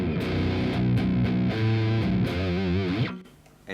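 Heavy metal guitar, heavily distorted through an Axe-FX II with a 412 Recto V30 rectifier cabinet simulation, playing chugging, thick chords that end in a wavering bend before cutting off, loud and up front.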